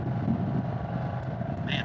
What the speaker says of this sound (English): It's pretty quiet with the stock exhaust, but for a stock exhaust, it's got a nice sound to it. It's more of like a thunderous rumble.